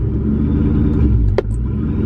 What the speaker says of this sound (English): you can hear the spark plugs in the back sparking